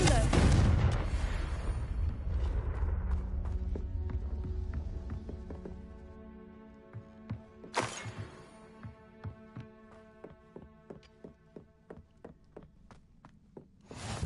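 A Confringo fire spell is cast in the Hogwarts Legacy video game, opening with a loud blasting burst, then a fading rumble and a string of sharp, evenly spaced percussive hits.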